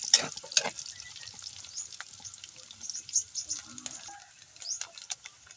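Garlic fries in a pan for a papait dish with tilapia, making a continuous soft sizzle with occasional stirring scrapes close by.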